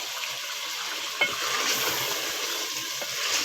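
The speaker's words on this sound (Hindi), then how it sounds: "अब हम इसमें सबसे पहले आलू डालेंगे।" Potatoes dropped into masala frying in a pan for an aloo baingan curry, giving a steady hiss and sizzle with a brief clatter as they go in, no talking.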